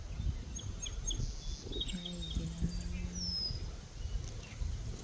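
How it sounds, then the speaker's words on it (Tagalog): Birds chirp and whistle faintly in the distance over outdoor ambience at a lake, with a brief spoken word nearby. "Tapos maririnig mo yung huni ng ibon."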